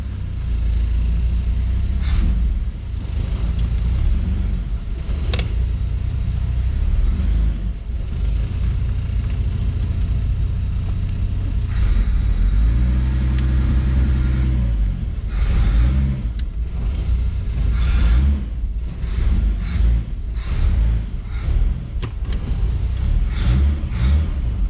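A Volvo 960 engine runs after a carburetor swap, a loud, steady low rumble held for a long stretch, with several revs and bursts of throttle and a few knocks, and no one speaking.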